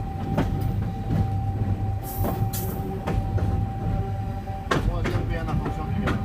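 A VIA Rail Canada passenger train on the Océan route pulls into a station, with a steady rumble and a high sustained tone, rail clunks and brief screeches along the way, and some muffled voices over the noise.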